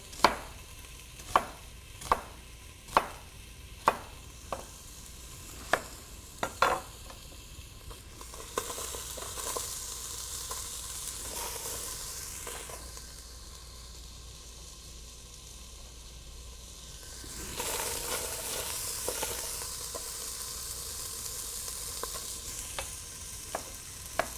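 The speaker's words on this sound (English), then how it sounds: "What I want to do is kind of brown these onions a little bit, caramelize them." Onions browning in a heavy-bottomed pan with no oil, first a run of sharp chopping knocks as they are broken up, then a soft steady sizzle and stirring scrape that swells and fades.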